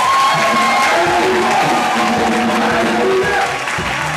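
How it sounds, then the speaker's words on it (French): A church congregation at a religious seminar cheers, whoops and applauds loudly in praise of God, a dense, continuous roar of clapping and shouting voices. "On acclame le Dieu de gloire."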